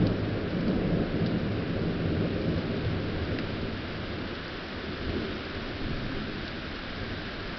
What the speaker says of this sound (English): rain's blowing in my face right now